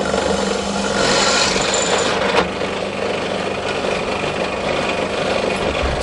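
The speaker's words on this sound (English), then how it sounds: "I'm going to drill the first one, put a bolt through." A power drill bores holes through a DIY recumbent bike seat for a short-wheelbase build, a steady, close whirring drone held for several seconds with a slight change in pitch partway through.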